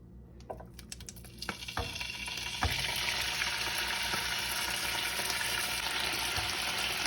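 Vegetables hit a hot frying pan with a few clatters, then a steady, loud sizzle of stir frying fills the rest.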